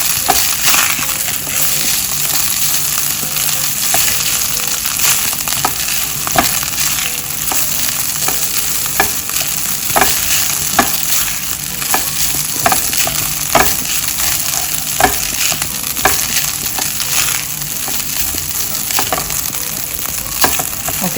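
Turmeric yellow rice being stirred in a hot pan, a steady frying sizzle broken by repeated sharp scrapes and clicks of the spoon against the pan at an irregular rhythm, close and fairly loud with no talking.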